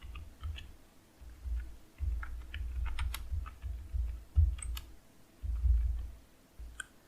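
Steady bursts of typing on a computer keyboard while Python code is entered, clicky keystrokes in irregular runs with short pauses, close and fairly quiet.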